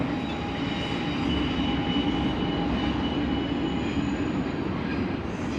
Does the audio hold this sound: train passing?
yes